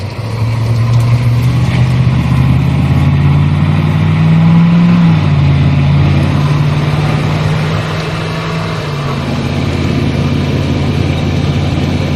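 A 1983 farm truck's engine on a test drive, a loud, steady mid-pitched drone that climbs in pitch midway and then settles back while the truck keeps pulling, with no one talking.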